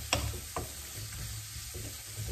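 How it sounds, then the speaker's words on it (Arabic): Chicken and peppers fry in a pan with a steady close sizzle, broken by two quick clacks of a utensil near the start, with no talking. "وداك الدجاج البنات غادي نديرو في شي مقله وغنشوي"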